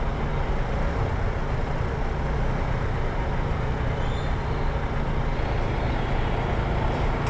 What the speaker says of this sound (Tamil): இங்கே ரொம்ப நேரமாக டிராஃபிக்காக தான் இருக்குது.